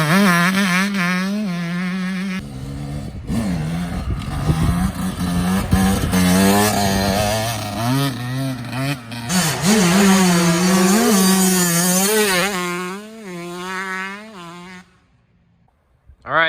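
A dirt bike engine is kick-started and ridden on a freestyle ramp course, loud and close, with a steady motor drone that rises and falls as the clutch is let out, then cuts off near the end; voices speak over it.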